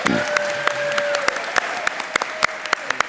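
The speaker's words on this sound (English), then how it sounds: "Everybody, big round of applause for Jarvis" An audience at a Dragon Con late show applauds a guest; scattered, fairly quiet claps pop unevenly over a soft crowd wash for a few seconds.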